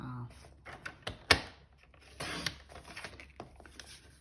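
Card stock for a card front being cut at the 3.5 mark with a paper trimmer, giving a few short mechanical clicks and a sharper slicing burst near the middle, fairly close and moderately quiet.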